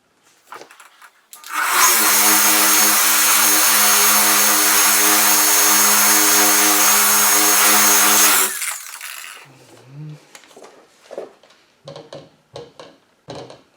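A rotary polisher with its pad spinning at low speed on the paint of a 2004 Audi B6 S4 with heavily damaged clear coat, a steady loud whine with a hum held for several seconds, then spinning down to scattered handling noises.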